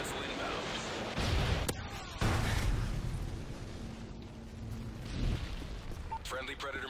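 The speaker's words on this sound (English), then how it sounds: "Friendly predator missile inbound." Predator missile strike in a Call of Duty MW3 multiplayer match, several booming blasts with rumbling aftermath amid game noise, and voices talking over it.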